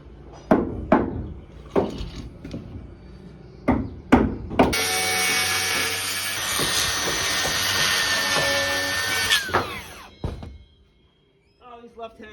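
A handsaw cutting almost a full sheet of grooved timber board on a building site during a stair build. A few sharp knocks come first, then a loud sustained stretch of sawing for about five seconds, followed by another knock and quiet.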